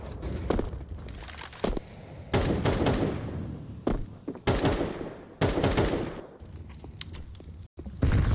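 Close, loud bursts of gunfire from Counter-Strike 2 on the Vertigo map during a fnatic vs KOI match, with rapid volleys and single shots arriving in clusters and separated by short pauses.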